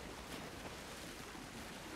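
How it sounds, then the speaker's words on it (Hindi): A strong water current rushes steadily in the video game Uncharted 4, making a broad, unbroken wash of surf-like noise with no voices. "पानी का बहाव ही इतना तेज है भाई।"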